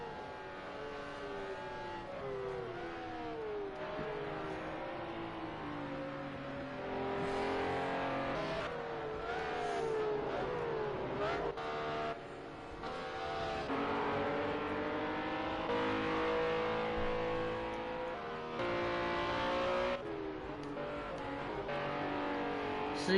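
Race cars in a racing game league's pro car final round, with engines droning and revving continuously, pitch rising and falling through gear changes and corners, and steady loud motor noise throughout.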